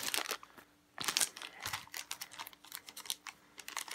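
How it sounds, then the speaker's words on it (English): A handful of Tidal Blades: Heroes of the Reef game dice are handled during a retail unboxing, giving quick bursts of sharp, light clicks and clatters. The sounds come close up, alone, with a short pause near the start. "Let's take a look at some of these dice."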